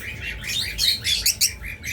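A breeding pair of pet birds, male and female, chirps in short bright bursts, several sharp tweets close together and fairly loud, with no talk.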